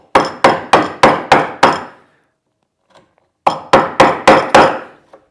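A chisel is struck to chop wood out of a bowtie inlay recess in a live-edge desk top. Sharp, close mallet blows land in a quick run of six, then a pause, then another run of five.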